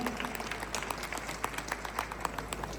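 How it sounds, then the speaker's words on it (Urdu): Faint applause from a small audience at a property presentation, a thin scatter of claps with a few louder hits standing out, heard at a distance and fairly quiet. "اس کے اوپر تالیاں ہونی چاہیے بھائی جان."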